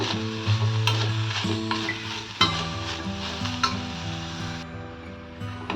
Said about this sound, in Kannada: ಇದನ್ನು ಹಾಗೆ ಡ್ರೈ ರೋಸ್ಟ್ ಮಾಡ್ಕೋಬೇಕು ಫ್ರೆಂಡ್ಸ್